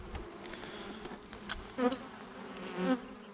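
Honeybees in a small swarm colony buzz as the hive stirs with no smoke used: a close, steady insect drone with individual bees whining loudly past at moments.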